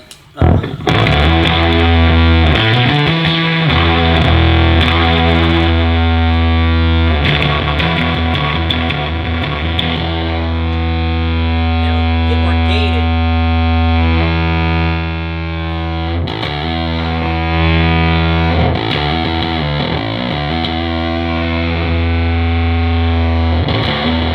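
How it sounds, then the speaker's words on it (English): Fuzzy, distorted electric guitar through a fuzz pedal set with low fuzz and high volume, playing loud sustained notes and riffs, with a gritty, buzzing tone throughout and no pauses. "But let's hear this nasty pedal. So the fuzz is actually pretty low, the volume's up."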